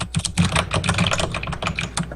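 Brisk clattering keystrokes from a loud mechanical keyboard fitted with Thunder Keys, close up and continuous with uneven rhythm, no talking over them.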